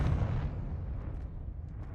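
A Confringo explosive spell blast from the Hogwarts Legacy video game: one heavy, deep boom that begins at full force and then rumbles away into a fading low tail.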